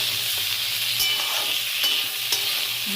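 Vegetables for a Bengali sukto fry and are stirred in a pan, with a close, steady sizzle broken by a few clinks and scrapes of the spoon; no voices.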